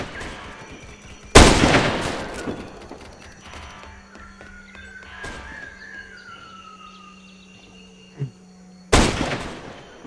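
Gunfire in a video game counter-riot operation, two loud sharp bursts of shots separated by a long quieter stretch with faint ambient tones and a thin whistling sound between them.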